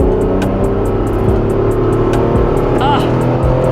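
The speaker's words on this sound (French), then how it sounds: "On va voir ce que ça consomme un RX 300 quand j'accélère" A Toyota Chaser fitted with a GT86 differential accelerates, its engine a steady, loud, close drone that builds with rising tones across the stretch.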